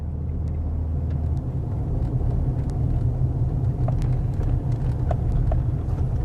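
Car interior on a drive along a bumpy rural road: a steady, loud low engine and road rumble throughout, with occasional small knocks and rattles from the cabin, and no talking.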